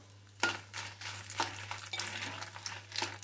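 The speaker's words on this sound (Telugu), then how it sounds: "మిర్చి వేయించుకుంటున్నాం." Dried red chillies fry in oil in a pan for gongura chutney, a soft sizzle broken by repeated stirring scrapes in a loose rhythm, close by under a steady low hum.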